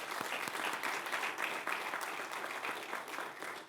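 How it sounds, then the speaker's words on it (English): An audience claps continuously for faculty members at a Catholic celebration event, a dense, steady round of applause filling the room for a few seconds. "Let's give them a round of applause."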